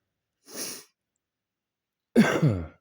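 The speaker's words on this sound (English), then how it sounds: "Excuse me for the coughing." Two short coughs close by, a brief single one followed after a pause by a harsher double cough, with silence between.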